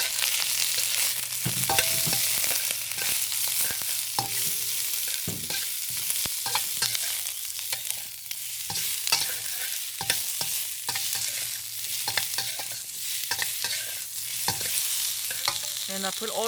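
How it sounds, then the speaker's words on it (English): Chayote squash, ginger, black fungus and red pepper stir-fry in a wok with a steady broadband sizzle, punctuated by repeated scraping and clanking of the spatula against the metal, with no voices. "I'm using the same wok to stir fry the ginger. Black fungus and the red pepper"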